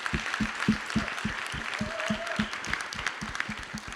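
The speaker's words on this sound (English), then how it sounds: "Let's give her a round of applause" An audience at a social equity panel event gives a modest round of applause, a steady patter of clapping with distinct claps at a quick regular pace, fairly faint and alone.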